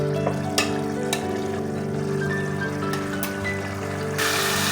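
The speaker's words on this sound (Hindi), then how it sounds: "अब मैं इसको भून लूँगी।" Chicken and tomato masala frying in a pan for tinday chicken salan, a steady broad sizzle with a few sharp clicks of a spoon against the pan and a brighter burst of frying near the end.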